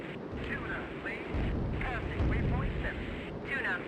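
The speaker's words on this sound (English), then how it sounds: "Big rocket salvo away" Rocket salvo fired from a jet in the combat flight game Strike Fighters 2 at a ground emplacement: a rumbling run of launch bursts and blasts over a constant engine roar, with a voice talking over it.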